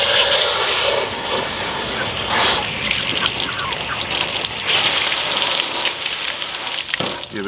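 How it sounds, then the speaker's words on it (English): Running water gushes steadily while a freshly butchered pasture-raised chicken is rinsed out during home processing, a broad continuous splashing rush that swells and dips, with brief louder surges near the start and middle. "Give it a good washing."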